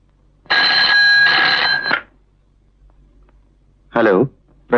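A telephone rings in a Bollywood film scene: one loud, trilling two-part ring burst of about a second and a half, then quiet, then a short voice cuts in.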